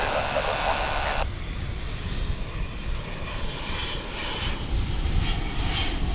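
A jet airplane arriving at DFW International Airport gives a steady, broad engine roar that holds at an even loudness throughout, heard from an obstructed spot beside the field.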